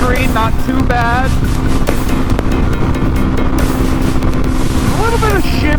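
Suzuki DRZ400 dual-sport motorcycle cruising at around 80 on the road near red line, a loud steady engine drone and wind rush filling the whole clip, with the rider's voice briefly over it.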